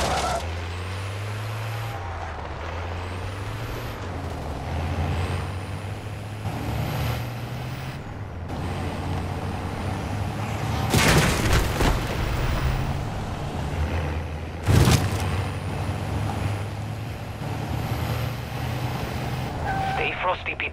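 A vehicle driven in Call of Duty Modern Warfare III Zombies mode, with a steady low engine drone and a few sharp bursts and hisses over about twenty seconds, running under occasional voices.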